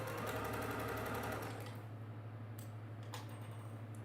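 A sewing machine stitches quilt pieces for a Dresden pattern, a fast, even mechanical whir that runs loud for a second and a half, then fades lower with a few light clicks and taps nearby.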